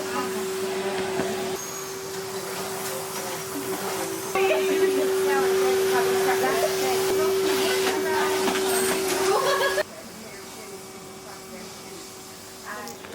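A Hoover vacuum cleaner whines with a steady tonal drone through most of the stretch, its pitch and loudness shifting as it works, then cutting out near the end, with people talking over it.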